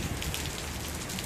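Sudden heavy rain pours down in Los Baños, Laguna, a dense, continuous hiss of water hitting surfaces, loud and close with no pauses.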